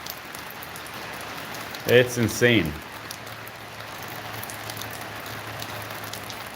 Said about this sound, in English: I don't mind the rain, but all my stuff is getting wet.